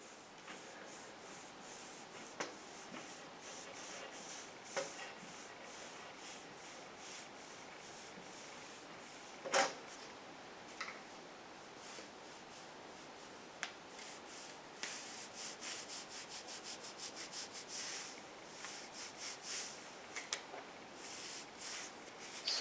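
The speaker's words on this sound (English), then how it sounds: "you just take a little bit of it on a microfiber towel or something like that, then just work it in." Steady, quiet rubbing of a microfiber towel working plastic trim restorer into faded car trim, a soft continuous scrubbing texture with occasional small taps and clicks, close and alone with no talk.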